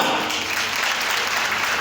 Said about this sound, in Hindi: जितेंद्र सर और महावीर सर के लिए जबरदस्त तालियां